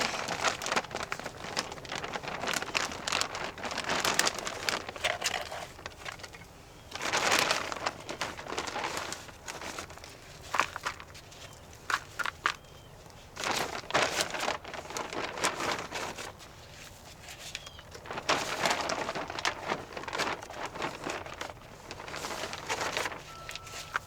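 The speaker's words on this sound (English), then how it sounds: "Soil's wet, it doesn't want to come out of the bag." Rustling, crumbly pouring and shaking of wet soil out of a bag in bursts, with soft crinkling of the bag between pauses.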